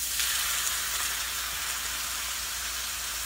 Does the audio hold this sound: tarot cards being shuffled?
no